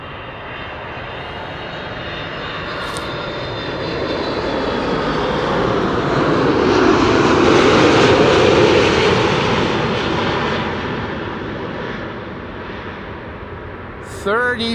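A large, long-serving airliner, about 35 years old, arriving at Amsterdam Schiphol Airport, its engine roar building to a loud broad rumble mid-pass and then fading, heard steadily from a distance without speech.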